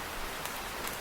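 Steady rain pours in a Hindi bird cartoon, a dense even hiss with scattered drop ticks throughout the short stretch, with no voices over it.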